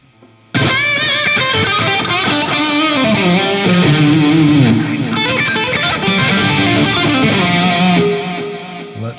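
Heavily distorted electric guitar through a Rat-style distortion setting on a Donner Arena 2000 multi-effects pedal plays a riff loud and up close, crunchy and saturated, with chords and single notes ringing out before fading.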